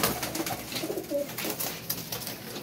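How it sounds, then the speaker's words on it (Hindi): Pigeons, a flock being packed for cargo shipment, cooing in soft low murmurs close by, several overlapping coos over a dense background hum. "ये कबूतर हैं जी जो जा रहे हैं"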